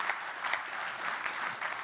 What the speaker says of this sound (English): It's always good to applaud